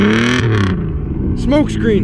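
A car engine roars and revs with a deep rumble, rising and falling, while someone talks over it close by.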